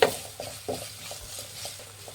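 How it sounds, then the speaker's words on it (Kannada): Capsicum strips frying in a pan for Andhra-style chilli chicken, with soft stirring scrapes and light sizzle repeating in a loose rhythm, close and fairly quiet, no talking. "ಕ್ಯಾಪ್ಸಿಕಮ್ ಎಲ್ಲ ಚೆನ್ನಾಗಿ ಫ್ರೈ ಆಗಿದೆ"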